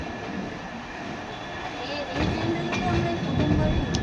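A train rumbles steadily along, the rolling noise swelling louder toward the end, with faint voices in the background.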